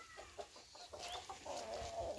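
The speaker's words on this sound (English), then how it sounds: "This is our Rhode Island chickens" Rhode Island Red hens and a rooster cluck in short, soft, irregular calls, fairly faint and alone with no talk.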